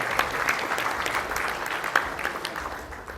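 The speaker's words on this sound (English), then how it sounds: "Please, let's recognize him and give him a round of applause." An audience at a national journalism awards ceremony gives a former president a round of applause, a full, continuous wash of clapping from a sizable crowd, holding steady with a few sharper claps standing out.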